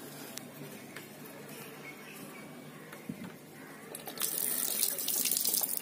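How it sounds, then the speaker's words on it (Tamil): Water rushes out through a screen filter on a rooftop tank fed by a pressure motor, a steady close flow that swells noticeably louder and brighter near the end, with no talking. "இப்போ இங்கே இருக்கிற தண்ணி ஃப்ளோ ஆயிடுச்சு"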